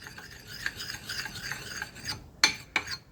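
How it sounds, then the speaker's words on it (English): A sharpening stone rasps along an axe edge in steady close strokes, a gritty rubbing scrape that ends with two sharper scrapes after a brief pause, with no talk. "It's rubbing, just starting to rub off at the edge."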